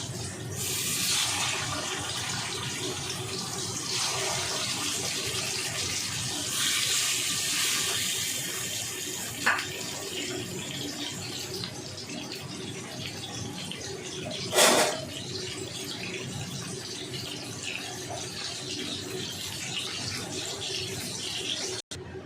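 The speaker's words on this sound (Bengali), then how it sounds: "এবার এক এক করে আমি রুই মাছগুলো ছেড়ে দিলাম।" Rohu fish pieces fry in oil with a steady loud hiss and sizzle, swelling at moments and marked by a couple of sharp pops.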